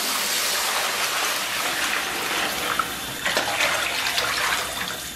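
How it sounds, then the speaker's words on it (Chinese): Water poured into a wok holding tiger-skin braised pork knuckle, a steady rushing splash lasting several seconds, close and moderately loud, with a few small splashes and sizzles near the end. "然后咱们给锅里边稍微来点水"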